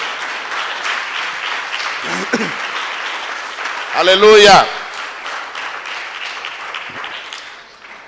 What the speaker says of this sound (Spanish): Denle otro aplauso al Padre, al Hijo y al Espíritu Santo